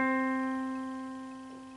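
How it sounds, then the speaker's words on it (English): A single sustained middle C (C4) note rings out clearly and fades slowly, with no talking. "I know that this is middle C."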